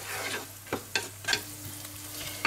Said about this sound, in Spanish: La vamos a pochar también junto con la cebolla durante un par de minutitos